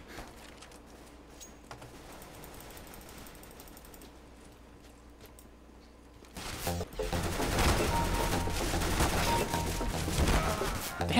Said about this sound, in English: there's gunfire everywhere.